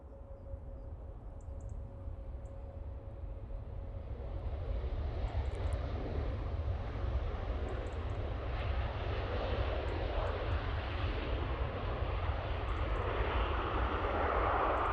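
Jet engine roar from an ETA aircraft flying for easyJet from Milan passes at Manchester Airport. A broad, loud, sustained rush builds after a few seconds and then holds steady, with no voices.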